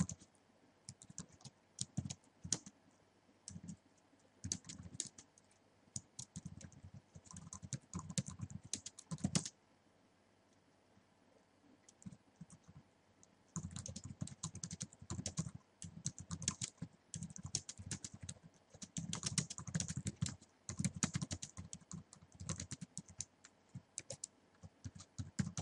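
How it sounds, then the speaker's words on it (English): Text is typed on a computer keyboard in quick, irregular bursts of close, crisp key clicks, with a short pause partway through before the rapid typing resumes. "We're just gonna type some text here."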